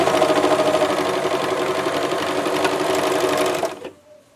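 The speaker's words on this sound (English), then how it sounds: "I'm sewing." A sewing machine stitches binding onto a garment in a steady, fast mechanical chatter, close and loud, running continuously for several seconds before stopping abruptly and leaving near silence.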